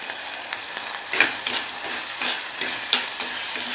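Onions and curry leaves frying in a hot kadai for a Kerala-style kanava gravy, giving a steady close sizzle broken by a few louder stirring scrapes and spatters, with no talking.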